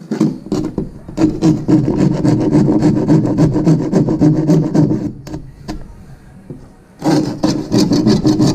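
A handsaw cuts through plywood in quick, rhythmic back-and-forth strokes, loud and close, with a brief pause before the rasping strokes resume; no talk.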